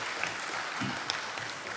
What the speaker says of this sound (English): Can we give them a round of applause, guys?